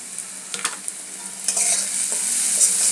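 Spices with salt, turmeric, chili, cumin and coriander powder sizzle and fry in a pan while being stirred, giving a steady hiss with scattered scraping clicks of the spoon, close and alone.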